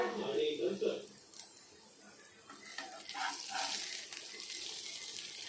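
Stuffed okra fries in a pan as the pieces are flipped over, a hissing sizzle that swells after the turn, with a person talking over the first part.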